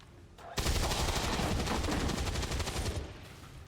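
A magnetic rifle in XCOM 2 unleashes a loud, sustained burst of rapid automatic fire lasting about two and a half seconds, starting sharply after a quiet moment and ending abruptly; no one talks over it.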